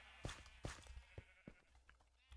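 Several short sheep bleats from Minecraft sheep pens, repeated at irregular intervals, fairly faint with game ambience underneath.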